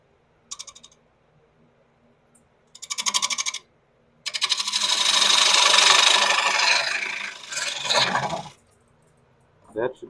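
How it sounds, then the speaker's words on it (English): A square end scraper cuts into an ebonised birch bowl spinning on a wood lathe, giving a sustained rasping scrape with a few short bursts of tool contact before and after. "This is just a square end scraper right here."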